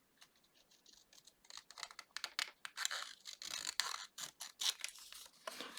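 Scissors snip through paper for a scrapbook pop-up card, with rapid close-up cuts and crisp rustling that quickly grow louder and steadier, with no voice heard.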